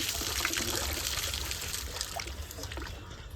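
Water pours steadily from a tap in a continuous splashing trickle, close and fairly loud, with no talk over it.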